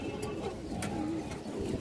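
Pigeon cooing from a loft of young Bengali breeding pigeons, low soft rolling coos repeating steadily at moderate distance over a faint background hiss, with no voices.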